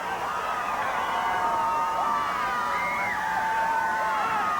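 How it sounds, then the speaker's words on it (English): A wrestling arena crowd at a 1988 World Class Championship event cheers and whoops continuously, a dense roar of many voices with shrill shouts rising above it, heard at a distance. "you see this crowd urging him on"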